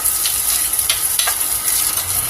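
Onions frying over a low flame in a pan give off a steady, soft sizzle with occasional light crackles and pops, heard alone with no speech.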